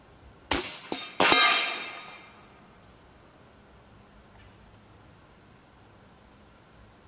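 A .357 revolver fired outdoors at a watermelon: a quick cluster of three sharp, loud reports in the first second and a half, the last ringing out briefly, then steady insect chirping in the background.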